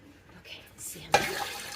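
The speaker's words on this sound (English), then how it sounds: "We need to use a couple more cups of water." Water is poured into a pot of vegetable beef soup, starting with a sudden splash and then a steady rushing pour, heard up close after quiet kitchen noise.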